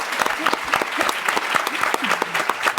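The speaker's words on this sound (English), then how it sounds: "Alexandre, big applause." Audience at a Cannes film festival press conference applauding, with distinct, moderately loud individual claps in an uneven rhythm and a voice speaking briefly over them.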